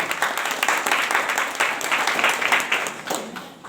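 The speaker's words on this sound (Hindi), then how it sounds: "इनके लिए जोरदार हाथ ताली से स्वागत" People at a hotel meeting clap to welcome first-time attendees, a lively, slightly uneven round of applause from a modest group that stays fairly loud throughout.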